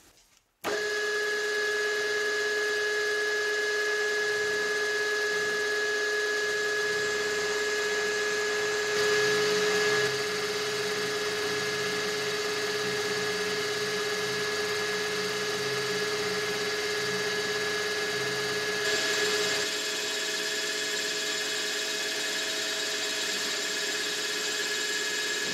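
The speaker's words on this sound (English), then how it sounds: "I used a 4-flute 4mm carbide end mill, dry at about 1000 RPM" Dry milling of shop-made steel parallels with a 4 mm four-flute carbide end mill at about 1000 RPM, a steady high-pitched whine with ringing tones and a grinding undertone, continuous and loud, shifting slightly partway through, with no talking.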